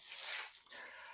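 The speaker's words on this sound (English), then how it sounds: "my dog's barking" Dog barking in the background, one or two short, hoarse, muffled barks and whimpering yips heard from a distance in a quiet room.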